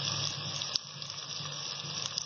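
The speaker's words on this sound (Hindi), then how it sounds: "अब 2 मिनट तक इसको भूनेंगे" Green chillies, peas and mixed vegetables sizzle steadily in a hot pan, a continuous soft frying hiss with a brief clatter partway through, no voices.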